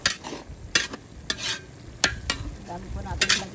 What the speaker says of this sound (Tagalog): Tapos haluin po natin.